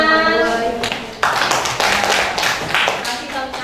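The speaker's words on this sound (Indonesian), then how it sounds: "Tepuk tangan." Classroom applause from students after a group reading, a burst of hand clapping lasting a few seconds with some voices mixed in.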